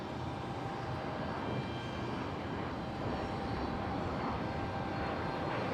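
A plane takes off from runway 30 left at San Jose Airport, its jet engine producing a loud, steady broadband roar that holds constant and swells slightly, with no voices over it.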